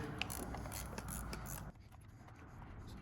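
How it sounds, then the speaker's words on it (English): A 10 mm fuel line retaining bolt on a Toyota 22RE engine is worked loose with a ratchet, a steady metallic clicking and scraping close up that suddenly drops to quieter, sparse ticks partway through. "So now we're gonna remove this fuel line retaining bolt"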